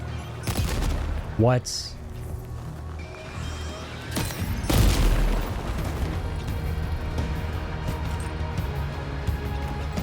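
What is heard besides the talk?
explosions detonated in the video game Death Stranding 2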